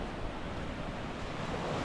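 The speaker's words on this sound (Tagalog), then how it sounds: "Ito yung dagat mga kabuli." Steady sea surf washes onto a tropical beach near a mountain, a continuous rushing roar with wind buffeting the microphone and no voices.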